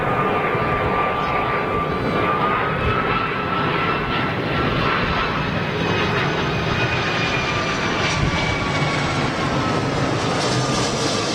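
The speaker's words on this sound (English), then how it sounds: "is this a 757? I think it is, you know. Jet 2 757." An aging 32-year-old Jet2 Boeing 757 at Manchester Airport gives a continuous, loud jet engine roar with a faint steady whine riding on top, sustained without a break and heard alone.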